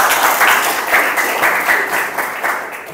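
Applause from participants at an Indonesian leadership training session for a community group: a lively burst of group clapping that stays strong for about three seconds and softens slightly at the end, with no speech over it.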